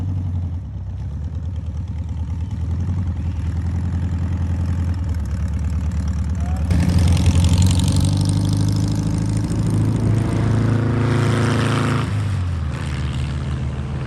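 A classic car from Classic Motor Carriages idles steadily at a swap meet car show, with a low, even engine rumble that grows louder and rougher midway as it revs slightly before settling back.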